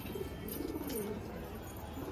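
Green dobaj pigeons coo in a low, soft murmur close by, a few gentle rolling calls over steady background noise with no voices.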